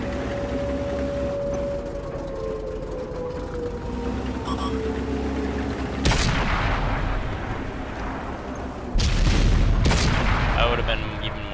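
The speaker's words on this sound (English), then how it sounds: "I would have been even more ashamed if you got killed by that artillery" Artillery booms in World of Tanks strike several times. Sharp heavy blasts land near 6, 9 and 10 seconds over a steady rumble of battle noise and engine drone.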